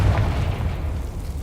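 A deep, rumbling boom from the Confringo blasting spell in Hogwarts Legacy rolls low and steady for a moment, heavy and close with no voices over it.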